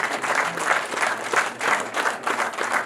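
Wedding guests applauding in a sustained, fairly close round of clapping that rises and falls in waves, with a faint murmur of the crowd beneath.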